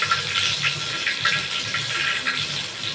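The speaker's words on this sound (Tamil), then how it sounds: "கடுகு பொரியட்டும்." Mustard seeds sputter and crackle in hot oil as tempering begins for idli upma, a steady near sizzle with dense popping and no voice.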